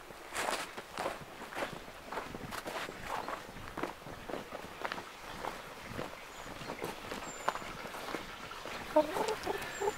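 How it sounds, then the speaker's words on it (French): A rescued former battery hen clucks softly in bursts amid rustling footsteps, the sounds close and moderately loud, with a few faint bird-like notes in the background. "C'est une poule qui était dans un élevage en batterie, ça."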